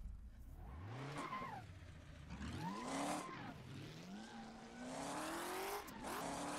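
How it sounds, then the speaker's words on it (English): A semi truck with no rear tires sliding out of control in a truck driving game, its engine rising and falling through repeated revving sweeps while tires squeal and skid, fairly close and steady for several seconds without speech. "Never thought you'd see a semi doing skids like this here on the channel."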